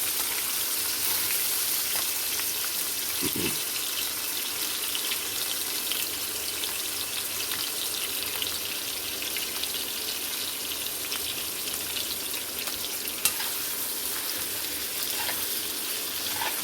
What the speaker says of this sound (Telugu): అప్పుడు తీసుకుని దాన్ని ఆయిల్లో ఫ్రై చేయాలన్నమాట.